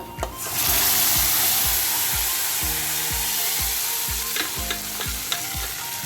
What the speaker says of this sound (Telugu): ఇప్పుడు పప్పు పోసుకుందాం. కొద్ది కరివేపాకు వేసుకుంటాను.